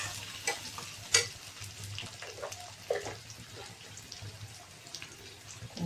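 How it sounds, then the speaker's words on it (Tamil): Onions sautéing in hot oil for a chicken and liver dish, a soft, faint sizzle with occasional sharp clicks and stirring scrapes, no voices. "இப்போ எண்ணெய் காஞ்சிச்சு, வெங்காயம் போட்டுக்கலாம். வெங்காயம் நல்லா வதங்கட்டும்."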